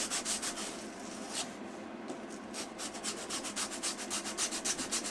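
A Scandi grind knife is rubbed back and forth on a 220 grit sharpening stone, giving steady rasping strokes in an even rhythm, close and moderately loud, with no talking.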